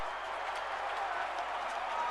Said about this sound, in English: the Giants, once again, win a game in a very unusual way as this crowd goes crazy